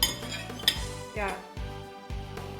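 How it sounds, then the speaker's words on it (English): Cutlery scraping and clinking against a plate, a few sharp metallic clinks and scrapes close to the listener. "Funny plate scraping noises."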